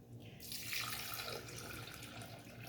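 Water pours steadily into a mixing bowl while making chicken crepe batter for crispy chicken box patties, a continuous close splashing stream with no talk.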